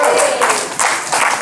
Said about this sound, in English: Take an applause for everybody here.